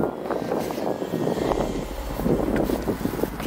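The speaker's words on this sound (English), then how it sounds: "I hear like an airplane or something." Outdoors, an airplane passes overhead as a broad, steady roar mixed with wind buffeting the microphone, fairly loud and continuous with no talking.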